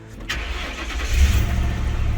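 An old sheriff's police car with 182,000 miles starts up after an exhaust leak repair, a brief crank catching into a steady, deep idle rumble that grows louder and holds close by.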